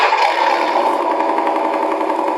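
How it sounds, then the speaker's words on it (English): Engine start effect from a Beier RC USM-RC-2 sound and light controller, a loud, steady electronic motor drone with a rough, rattling texture that runs unbroken throughout. "Now we also have our engine start"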